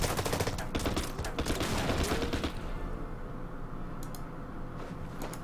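Bursts of tank gunfire aimed at infantry in the war strategy game Order of Battle, a dense rattling fusillade for the first half, then fading into scattered shots and tail noise.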